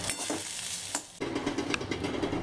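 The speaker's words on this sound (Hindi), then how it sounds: "थोड़ा सा बैगन ऐड कर दिया तो फ्राई करेंगे इसको फ्राई फ्राई कर रही हूँ" Eggplant and bitter gourd fry in a pan with a close, bright sizzle. A few spatula scrapes and stirring knocks break in, and after a short pause the frying crackles on more loudly.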